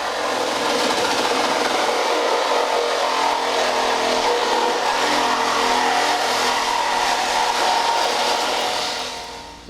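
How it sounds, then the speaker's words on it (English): A Sawzall reciprocating saw cuts through metal chassis tube, a loud, close, continuous buzzing whine that holds steady for nearly ten seconds before cutting off. "I'll just grab my Sawzall."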